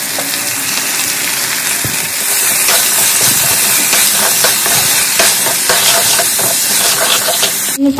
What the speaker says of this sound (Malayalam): നമ്മൾ അതിലേക്ക് സബോളയും കിഴങ്ങും പച്ചമുളകും എല്ലാം അരിഞ്ഞു വെച്ചിരിക്കുന്നത് ഇട്ട് ആവശ്യത്തിന് ഉപ്പ് ഇട്ട് നമുക്കിതൊന്ന് വഴറ്റി യോജിപ്പിക്കാം